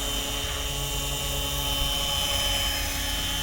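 A repaired RC helicopter's rotor spins at full speed, a steady high-pitched whine and buzz holding constant and loud nearby.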